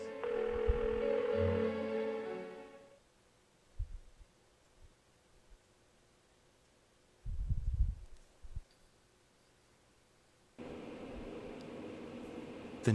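A phone call's dial tone in the video game Persona 4, heard as a steady tone that cuts off, then a long quiet gap with a few soft thumps before the tone returns for the last couple of seconds.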